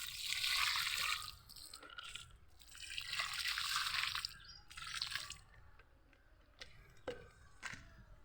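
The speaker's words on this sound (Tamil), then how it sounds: "இப்போது நம்ம தண்ணி ஊற்றிக்கலாம்." Water poured from a container onto a freshly planted rose cutting in soil, heard as several close bursts of splashing and trickling with short pauses between pours and light drips at the end.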